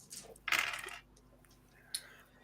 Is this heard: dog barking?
no